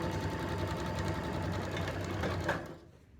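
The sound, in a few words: sewing machine stitching a two layer fabric mask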